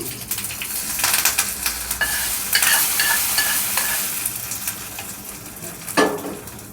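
A hot tempering with curry leaves is mixed into peanut chutney, with steady stirring and scraping over a soft sizzle, a few sharp spoon knocks and a louder scrape near the end, with no talk.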